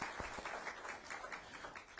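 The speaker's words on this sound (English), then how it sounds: "Let's give them a round of applause" Scattered, faint clapping from a small press-conference audience honoring special guests, individual claps audible in a loose rhythm.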